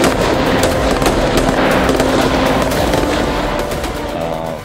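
Gunfire from the war in Ukraine crackles in dense, rapid, loud bursts with no break, easing slightly toward the end.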